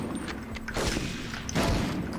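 Bursts of video game gunfire from Medal of Honor crackle and boom in quick succession, loud and close, with a heavier blast near the end.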